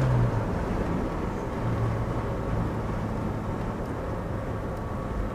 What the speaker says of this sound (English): But listen to this car, it just runs great.